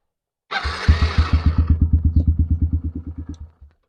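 A small dirt bike engine starts up loud and close, then settles into a steady, rapid pulsing putter for about three seconds before cutting off. No one speaks.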